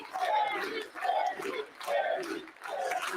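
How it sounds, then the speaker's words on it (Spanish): An enthusiastic crowd at a rally for a speaker championing African unity and independence roars in four rhythmic, surging waves of cheering and chanting, loud and fairly close. "Una multitud entusiasta aplaude al hombre"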